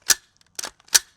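Bolt and trigger of a secondhand gas airsoft gun are cycled, producing three crisp close-up mechanical clacks spaced about half a second apart, with no voices over them.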